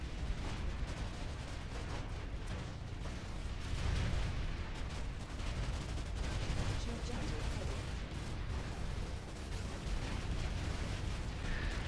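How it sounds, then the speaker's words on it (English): Dense, continuous gunfire and blasts fill a light assault fight in a first-person shooter video game, loud and steady throughout with heavier bursts rising and falling. "I engage the enemy from cover and I keep moving while firing"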